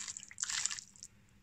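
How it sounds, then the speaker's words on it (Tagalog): Boiling water poured over raw chicken legs, a short, soft splashing trickle with light drips, quiet and close. "Ngayon, babalian ko siya ng kumukulong tubig."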